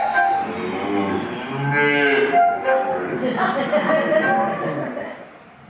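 Cattle mooing, several drawn-out lowing calls overlapping one another at close range over a continuous outdoor rumble.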